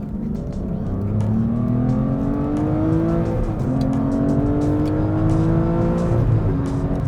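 An Aston Martin V12 Vantage S accelerates hard, its engine note climbing steadily through rising gears, loud and close from inside the car.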